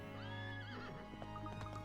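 A horse from the video game Professor Layton vs Phoenix Wright whinnies in a long rising and falling neigh, followed by hooves clopping, loud and close over a steady game soundtrack hum.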